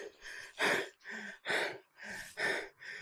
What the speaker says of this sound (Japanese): いや、めっちゃ息切れてますよ。